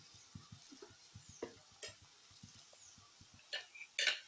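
Oats and banana batter cooks in a pan with a faint sizzle, while a utensil makes soft, repeated ticking taps against the pan and a few louder scraping clinks come through near the end.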